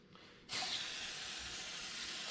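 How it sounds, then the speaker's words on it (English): Carburetor cleaner sprayed from a can to rinse small parts from an Edelbrock 750 carburetor, a steady close hiss starting abruptly and continuing without a break. "I'm taking the small parts out of the basket one at a time, rinsing it off with some carburetor cleaner"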